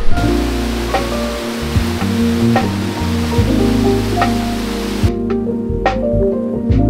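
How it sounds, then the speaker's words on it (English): Steady roar of a waterfall in East Java with broadband rushing water, joined by scattered clicks and short tonal bursts from nearby activity. "So waterfall number two of the day."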